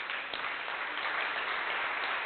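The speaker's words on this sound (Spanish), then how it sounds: "denle un aplauso al Señor" Church congregation clapping, a brief dense wash of applause that stays steady and moderately loud, with no speech over it.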